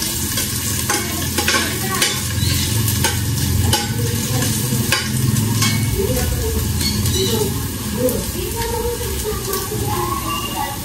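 Lemongrass and onion frying in oil, a steady close sizzle with clinking stirring strokes against the pan and faint voices in the background.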